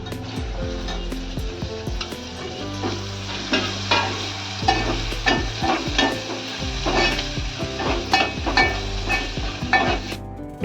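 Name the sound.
stirring and frying tempering with Malvani masala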